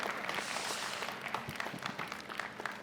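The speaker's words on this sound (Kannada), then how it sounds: "ಎರಡೂ ಕಡೆಯಿಂದ ಜೋರಾದ ಚಪ್ಪಾಳೆ ಇರಲಿ ಬಂಧುಗಳೇ" Men and women in a hotel comedy show audience clap together, a continuous, fairly loud patter of applause with a few sharper individual claps standing out near the end.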